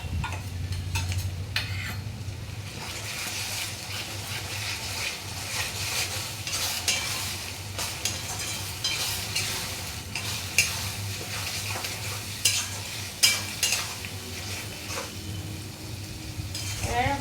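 Onions fried with ginger, garlic, chili, cumin and coriander paste for a spicy chicken wings, neck and tengri curry, giving a steady close sizzle under repeated spoon stirring and scraping against the pot, with no talking.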